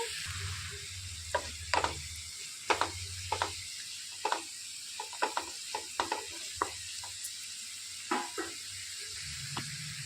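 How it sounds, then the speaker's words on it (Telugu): Onions sizzle with salt in a pan while being cooked for a spicy capsicum and egg masala curry. A soft, steady frying hiss runs underneath, broken by scattered sharp clicks and scrapes of stirring, and no one speaks. "ఉల్లిపాయలు ఇందులోనికి రుచికి సరిపడా ఉప్పు వేసేసుకోవాలండి దాని మూలన ఉల్లిపాయలు అనేవి తొందరగా ఫ్రై అయిపోతాయి"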